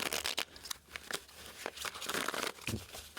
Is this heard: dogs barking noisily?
no